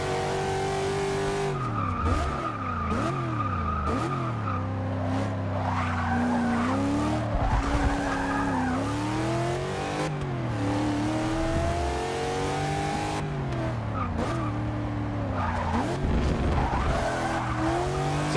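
An Ultima GTR race car in Forza Motorsport 6 revs and shifts its engine pitch up and down through corners, with sustained tire squeal and skidding throughout, loud and close, with no talking.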